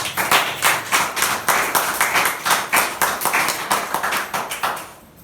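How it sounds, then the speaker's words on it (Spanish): A church congregation claps together in a steady, rhythmic beat, loud and close, before the clapping fades out near the end. "Denle un aplauso."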